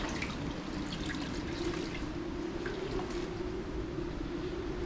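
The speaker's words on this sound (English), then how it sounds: "You kind of want to wring them out a little bit, just so they're not totally dripping wet" Wet washing towels for a rinseless car wash are wrung out, and water pours and trickles steadily into a bucket with no pauses, close by and without speech.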